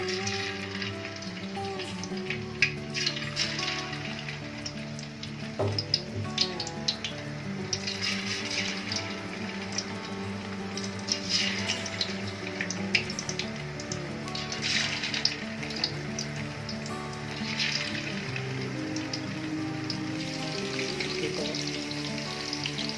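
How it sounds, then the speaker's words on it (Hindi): Marinated chicken pieces deep frying in plenty of hot oil in a kadai, a steady dense sizzle and bubbling crackle running throughout, close and fairly loud with faint background hum. "ऑयल हमें ज़्यादा चाहिए क्योंकि डीप फ्राई करना है चिकन को"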